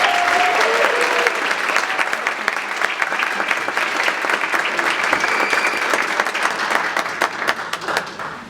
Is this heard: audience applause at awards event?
yes